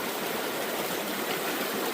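Water rushes steadily through a gold sluice mat outdoors, a continuous, close, hissing splash with no breaks.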